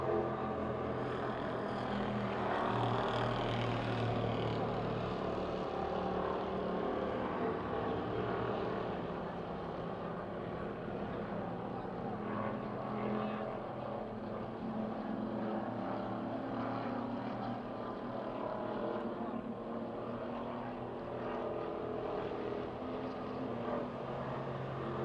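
Race cars in a five-lap heat race at Pennsylvania Motor Speedway near Pittsburgh produce a continuous, dense engine roar that holds steady for the whole stretch, with no clear passes standing out.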